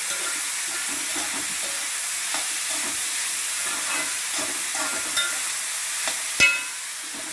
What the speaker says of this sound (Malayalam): നമുക്കിത് കുറച്ച് നല്ലപോലെ ഇളക്കി ഇളക്കി വെള്ളമൊക്കെ വറ്റി നല്ലോണം വിധം ഇടുമ്പോൾ ഒതുങ്ങി എടുക്കാം